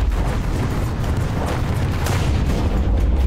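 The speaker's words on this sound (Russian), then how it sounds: "Он еще стреляет в меня" Tank gun fire in War Thunder, heard from a StuG III Ausf. A assault gun, a loud, heavy continuous boom and rumble that fills the whole moment, with no talk over it.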